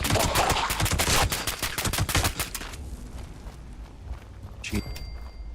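Rapid automatic gunfire in Fallout 76, a loud dense burst of shots for nearly three seconds, then quieter background with a single sharp crack near the end.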